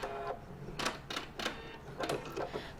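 A sewing machine back tacking on a fabric pennant, with several short bursts of fast mechanical stitching separated by brief pauses, quiet and close, with no voices.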